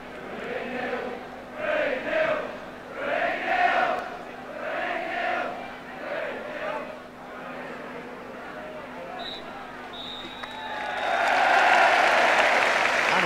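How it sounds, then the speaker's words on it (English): Tottenham supporters fill White Hart Lane at half-time of Spurs against Bristol Rovers. A commentator talks over a low crowd murmur at first, then loud, thunderous applause swells up over the last few seconds. "Spurs going off to thunderous applause"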